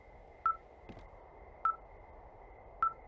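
Radio receiver tones in the video game Firewatch: three short, sharp electronic beeps spaced about a second apart over a faint steady hum, with no talking.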